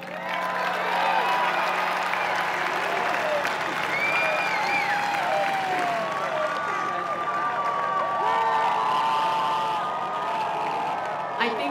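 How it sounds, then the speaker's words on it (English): Sustained applause and cheering from a large crowd at the 2014 San Francisco Giants World Series championship celebration, loud and continuous, with whoops and whistles rising over the clapping throughout. "We need a bigger round of applause for our skipper, Bruce Bochy!"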